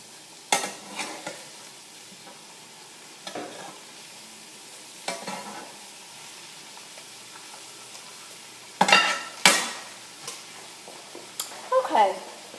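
A spoon stirs food in a pan in a home kitchen, giving scattered scrapes and sharp clinks in irregular bursts, some close and loud, separated by quieter stretches, with voices talking nearby.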